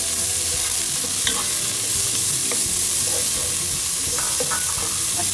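Garlic frying in oil in a pan with onion, a loud, dense sizzle running without a break, with scattered soft scrapes as it is stirred up close.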